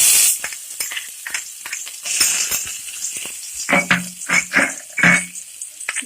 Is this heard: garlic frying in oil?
yes